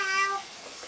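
A single high, drawn-out meow imitated by a voice, short and clear, then quiet.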